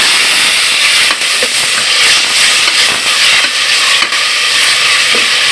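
Ginger and garlic sizzle loudly in a pan over high heat for mutton bhuna, a continuous close hiss broken by faint stirring clicks.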